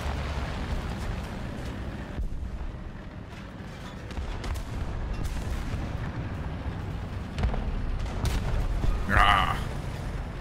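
Ammunition cooking off inside a tank in an online tank game: dense rumbling booms and crackling blasts rolling on throughout, with a sharper burst near the end.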